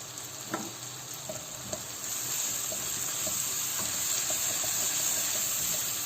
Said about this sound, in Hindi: सब मसाले को पकाएंगे जब तक ये गल ना जाए।